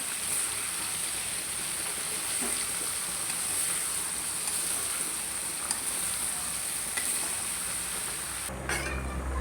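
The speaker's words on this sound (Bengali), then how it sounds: "সব দিয়ে দিলাম। ভালো করে কষাই নিই।" Potatoes and spices frying in a pan for an eggplant and tengra fish curry give off a steady, dense sizzle that hisses without pause, with a brief scrape of stirring near the end.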